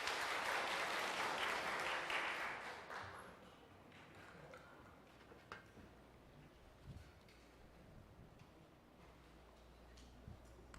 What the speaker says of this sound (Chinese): 我们给他们一个热烈的掌声